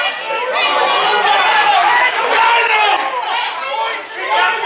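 A football crowd at a Harrowby United versus Melton Town non-league match voices disagreement over a throw-in, a loud swell of mixed shouts and chatter rising and falling across the ground.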